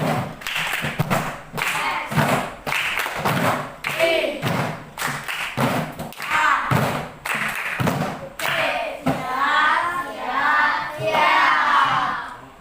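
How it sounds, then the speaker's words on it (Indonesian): A classroom group performs a tepuk semangat chant-clap, with sharp rhythmic hand claps in quick patterned bursts. Voices join in and grow into louder shouting and chanting near the end. "1, 2, 3, tepuk semangat"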